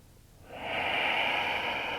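A slow, steady breath during a yoga flow, a soft airy hiss that swells in after a quiet moment and holds evenly, close to the microphone.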